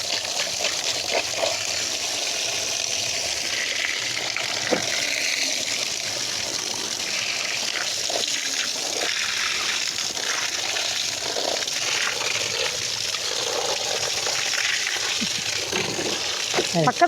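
Water runs steadily while vanjiram fish is washed during cleaning, a continuous splashing gush under people talking nearby.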